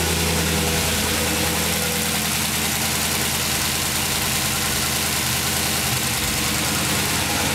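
A Chrysler 300C SRT8 V8 with a custom-grind SRT cam and SLP LM1 exhaust idles loudly and close, its lumpy, uneven cam rumble throbbing continuously, with no talking.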